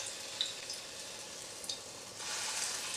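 Small masoor dal fritters fry in hot oil over a low flame, giving a steady close sizzle with crackling pops that swells louder toward the end, with no talking.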